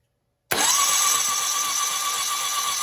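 A 1986 Suzuki GSX-R 750 motorcycle engine cranks over on a jumped starter, kicking in abruptly after a moment of silence and then holding a steady, loud mechanical whir with a high whine, close by.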